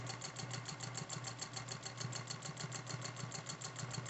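A vintage 1948 Singer 201 sewing machine runs at an even pace for free motion quilting, a rapid regular needle chatter over a steady motor hum, quiet and close throughout.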